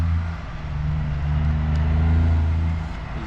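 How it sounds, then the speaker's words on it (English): A loud old car drives past near the Port of Brisbane, a close, steady engine rumble that swells and then eases as it passes, with no talking over it. "Look at this old banger."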